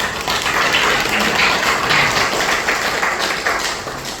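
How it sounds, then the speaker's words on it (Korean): Dense applause from a crowd, sustained clapping that holds steady and then thins slightly toward the end. "큰 박수 부탁드립니다"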